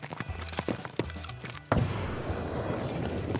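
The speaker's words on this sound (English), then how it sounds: "Grenade!" A grenade goes off in the shooter Escape from Tarkov: one sudden, loud blast bursts out partway through, then a long rumbling wash of noise trails off, after a stretch of light scuffling taps.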